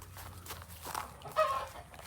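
A rooster calls softly to his hens in a farmyard flock, a brief clucking call rising over faint footsteps and low background noise, fairly distant and quiet.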